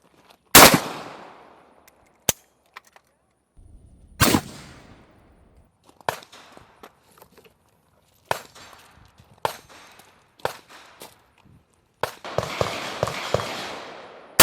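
Rifle shots slam into a Russian 6B45 Granit Ratnik armor plate, with sharp, loud cracks arriving one at a time at irregular spacing and a denser cluster of reports near the end.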